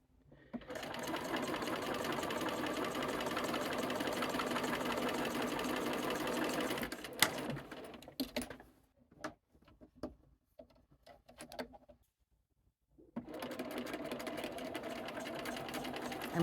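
A sewing machine with a quarter-inch foot stitches half-square triangles, whirring loud and steady for about seven seconds, then giving a few faint clicks and pauses before running again near the end.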